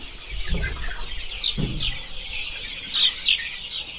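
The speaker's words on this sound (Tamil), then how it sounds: "இப்போ இதை பார்த்தீங்கன்னா ஒன் மந்த் சிக்கிங்க சொன்னாலி" One-month-old Sonali chicks chirp and cluck softly in short, scattered bursts, with a few sharper peeps near the end against quiet background noise.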